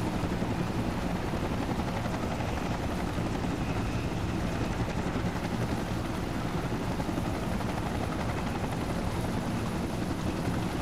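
Helicopter in the video game ArmA 2 flying steadily, a loud continuous rotor and turbine drone with rapid blade chop, dense and unbroken throughout with no talk over it.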